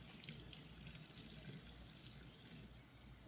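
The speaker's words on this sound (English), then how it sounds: "Little rinse." Xbox 360 console parts are rinsed under a running kitchen tap, a steady close rush of water splashing into a sink with no break for the full few seconds.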